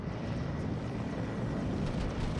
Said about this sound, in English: We got some helicopters threatening out here.